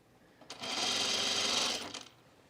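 A home sewing machine winds a bobbin in one smooth, high-pitched whir lasting about a second and a half, starting and stopping cleanly in a quiet room.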